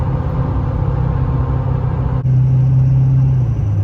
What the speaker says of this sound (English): You can definitely hear the exhaust, but it's not obnoxious.